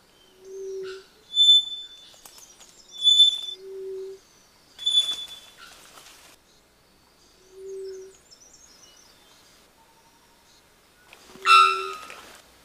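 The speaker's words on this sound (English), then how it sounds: "The male's call may be the loudest of any bird in the world." A three-wattled bellbird calls in a rainforest: several loud, clear tonal notes and sharp, ringing bursts spaced a second or two apart, with quiet pauses between and one harsh, broadband blast near the end.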